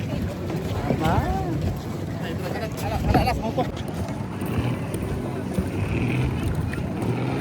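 A boat crosses choppy sea off Boracay in the Philippines, its rumbling motor and slapping water mixed with heavy wind buffeting the microphone, while voices chatter and call out over the noise.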